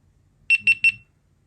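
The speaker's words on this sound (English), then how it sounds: "You'll hear that beep." Three quick high-pitched electronic beeps from a GoPro Hero 12 Black camera during factory reset, in an even rhythm, clear and close, with faint low background noise and no talking.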